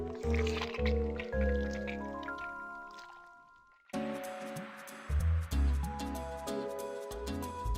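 Water squishing, sloshing and dripping in the WiiWare video game Fluidity, soft liquid squelches layered over bright, tonal game music that drops out briefly midway before resuming.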